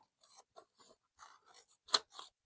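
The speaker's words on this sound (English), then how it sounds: "I'm just going to take my scissors," Scissors snipping away excess paper at a craft table, a series of short, quiet crisp cuts with small pauses between them, ending in a couple of sharper snips, no voices.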